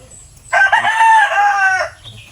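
A single loud rooster crow rings out close by, a drawn-out cock-a-doodle-doo lasting over a second against quiet surroundings.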